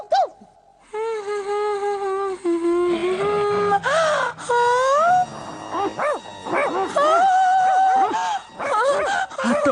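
Cartoon character Hathodi imitating a dog with a voice, a loud close run of drawn-out whimpers, whines and howls broken by short yipping barks, varying in pitch over several seconds.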